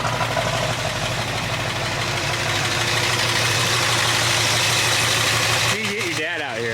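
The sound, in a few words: truck engine idling through exhaust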